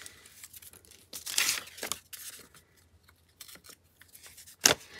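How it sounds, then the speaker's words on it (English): Paper being torn along a ruler while making a flower journal: two short, crisp ripping bursts separated by quiet rustling and small handling noises, close and fairly soft. "I'm just going to tear off the little piece."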